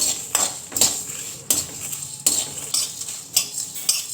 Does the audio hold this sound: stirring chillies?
yes